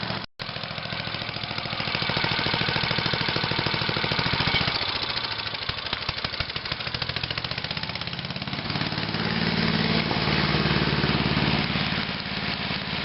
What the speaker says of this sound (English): I'm only going to turn the throttle up just a little bit, and then we'll start shredding leaves.